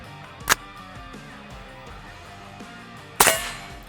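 Two sharp, loud gunshots from a CMMG Dissent 5.7x28mm AR pistol, about three seconds apart, each a crisp crack with a brief ringing tail over a low background hum.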